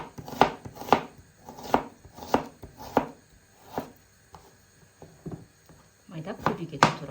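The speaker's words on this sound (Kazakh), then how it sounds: "Жуамызды майда етіп турап аламыз." A knife finely chops an onion on a board, a series of crisp, evenly spaced thuds close by that pause briefly before resuming in a quicker cluster.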